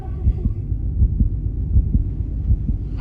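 A thudding heartbeat effect for Daredevil pulses at a steady rhythm, low and close, each beat a soft muffled thump under a faint hum.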